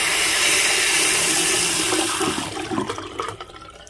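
Water pressure from a hygger auto aquarium gravel cleaner releasing into a sink, a loud rushing gush that holds steady, then weakens into uneven splashes and fades near the end.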